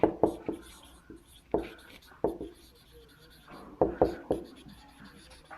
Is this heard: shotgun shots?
no